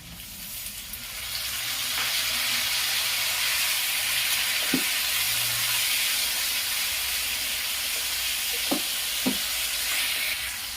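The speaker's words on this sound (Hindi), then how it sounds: "टमाटर गलने तक मैं भूनूंगी" Tomatoes fry in a hot pan on high flame for a mustard greens and spinach curry, giving a steady hiss and sizzle throughout with a few brief knocks of a spoon.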